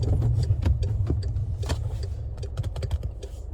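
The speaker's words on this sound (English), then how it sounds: "I'm in third gear, slowing down once again, sneak peek, downshift" Interior of a manual car slowing down with a downshift from third gear: steady low engine rumble with scattered clicks and knocks of the shifter and pedals, no talking.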